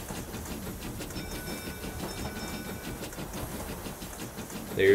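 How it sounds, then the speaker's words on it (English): A steam train rolls by in a video game, with a steady rumbling chug and faint rhythmic clatter under a thin whistle tone, and a sharp blip sounding at the end. "There's the steam train."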